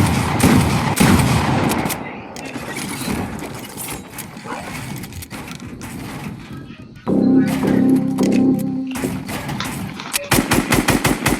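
Video game gunfire: rapid machine-gun bursts and repeated shots, loud and close, broken by short pauses, with players talking over parts of it.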